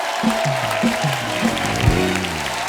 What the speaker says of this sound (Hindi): जोरदार तालियां हो जाए अमीषा के लिए